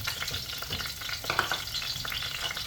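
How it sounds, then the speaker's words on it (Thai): Garlic and a little salt stir-frying in a pan for a Thai pickled mustard greens and pork soup, a steady close sizzle broken by scraping stirs, no talking. "ก็ผัดนะคะให้หอมๆก่อน"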